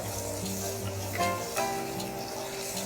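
Onions softened with turmeric powder sauté in a pan for masala rice, giving a steady close sizzle with faint stirring scrapes and no talk over it.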